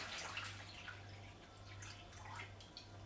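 Water runs and splashes steadily into a mixing bowl for giant bubble liquid, a soft continuous pour with small drips and a low hum underneath.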